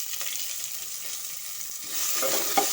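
Onions fry in a pan with a little salt for a field-bean and fenugreek rice dish. A close, steady sizzle swells louder toward the end, with stirring scrapes on top.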